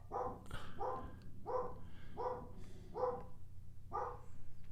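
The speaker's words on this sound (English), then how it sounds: "She'll stop barking in a sec. I don't know what the heck she's barking at." A dog at home barks in a steady series of six sharp woofs about a second apart, moderately close, with no talking.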